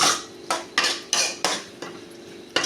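A spoon stirs masala and green peas in a metal pot for a sundal snack, giving a string of sharp scraping clanks about every half second, close and loud, with no talking.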